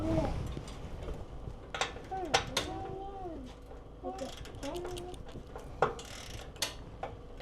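A ratchet fitted with a 9/16 socket works an exhaust mounting bolt on a 2025 Harley-Davidson Road Glide, giving scattered metallic clicks and ticks close by while voices murmur underneath.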